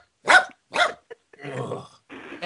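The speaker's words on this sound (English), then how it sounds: "Ein is in the corridor going crazy, barking and running in circles" A dog named Ein barks in sharp, separate bursts, then gives a rougher, longer growling run of noise, close and loud with brief silences between.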